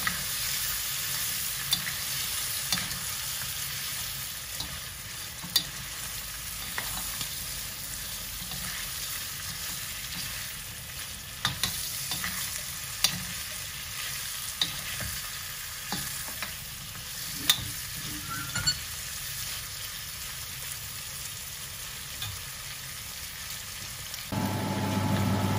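Pork liver sizzling in a pan with lamb belly as it is sautéed for a caldereta stew, a steady frying hiss with occasional pops and stirring clinks throughout, and no voices.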